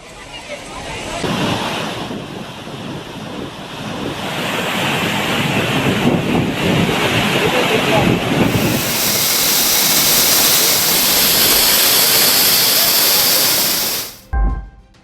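Courtallam waterfall in heavy flood after continuous rain sends up a loud, steady, roaring rush of water that swells partway through and then cuts off abruptly near the end.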